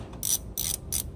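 A ratchet loosening the alternator nut on a car, three crisp bursts of rapid clicking, close and loud, with short pauses between strokes.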